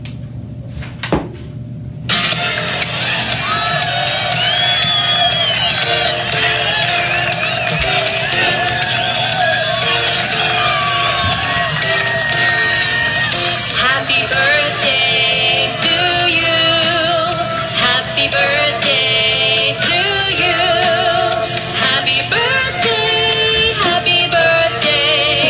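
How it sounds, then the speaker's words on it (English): A group of voices sings happy birthday together with steady hand claps keeping time, loud and continuous throughout, with the clapping growing sharper toward the end. "Clap along to happy birthday."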